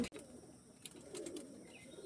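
Rare Andhra pigeons cooing faintly at a distance amid soft background noise, low murmuring coos with a few scattered higher chirps.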